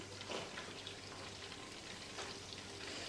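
Butter browning and foaming in a pan over medium heat, a soft continuous crackling sizzle, faint and steady throughout with no voices.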